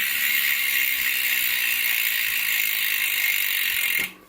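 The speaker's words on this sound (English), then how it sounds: "if you like your free hubs loud, the Superteam wheel will not disappoint." Superteam S-ALL carbon wheel freehub ratchet clicking loudly and rapidly in a continuous buzz while the wheel spins freely, stopping abruptly at the end.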